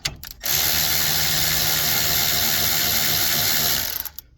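A socket ratchet backs out brake caliper bolts during a disc brake conversion on a 1954 Mercury Monterey, giving a steady, continuous close-up clicking of the pawl for about three and a half seconds, alone with no talk.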